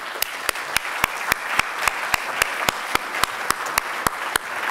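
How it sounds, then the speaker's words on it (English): An audience gives a warm round of applause to the panelists of a trading-volumes debate, a steady wash of clapping with one nearby pair of hands beating out crisp, evenly spaced claps. "A very warm round of applause"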